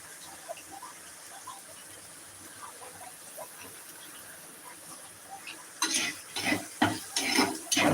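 Dried fish frying in oil in a pan: a faint, quiet sizzle at first, then louder bursts of stirring and scraping near the end. No one speaks.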